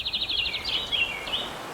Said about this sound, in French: la première chose que vous entendez, c'est le chant des oiseaux.